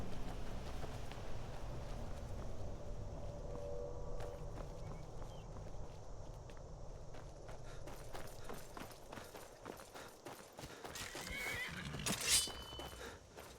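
A horse whinnies in the video game Skyrim over steady outdoor ambience, with hooves clopping and shuffling steps growing busier, then a sharp high neigh near the end.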